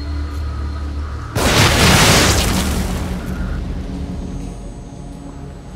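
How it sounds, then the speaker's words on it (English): A loud explosion booms in The Evil Within horror video game, bursting in suddenly after quiet ambience and rumbling off slowly over several seconds. "The explosion should attract attention"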